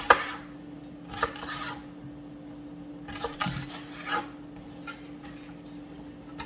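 A knife slicing vegetables into strips on a cutting board for a no-dough pizza skillet, several soft scraping strokes and light taps spaced irregularly, close and quiet over a steady hum.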